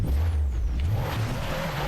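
A car engine hums low and steady in a downhill driving video game while the overheating, smoking vehicle pushes through a muddy area. There is a faint high whine on top and no voices.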